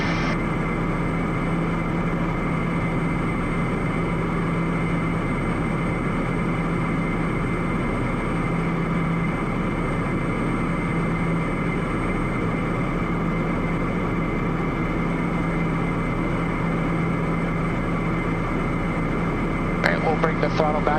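A Meridian M500 turboprop engine runs with torque reduced, a steady loud cockpit drone with a constant whine, while pilot talk and radio chatter come through briefly.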